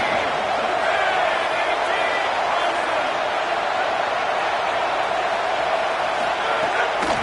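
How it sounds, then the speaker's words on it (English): A huge stadium crowd at a college football game between Oklahoma and Utah State roars continuously during a defensive play, a steady wall of noise with voices blending into an unbroken din. "Listen to this crowd just shaking the girders of this place, trying to help their defense."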